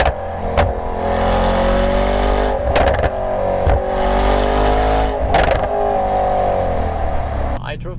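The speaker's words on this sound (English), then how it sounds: "turn it back on and you have one of the best V8 soundtracks on this road." A Mercedes-AMG E63 wagon's V8 exhaust drones loudly and steadily on the road, with brief louder pops and shifts as it rides along.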